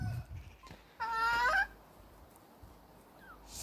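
Crested hens and a crested rooster in a henhouse give one clear, loud, warbling call of about half a second over quiet background noise, with a few fainter clucks around it.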